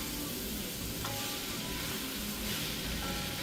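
Bok choy hitting a hot pan for a chili lime shrimp ramen bowl, giving a steady, close sizzle that holds level throughout with no talking.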